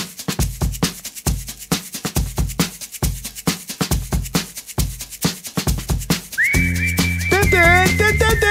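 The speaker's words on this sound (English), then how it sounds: "That whistle. Everyone knows that whistle." A bright whistled melody over a bouncy beat with percussion in a song, carrying a catchy tune before sustained synth tones come in near the end.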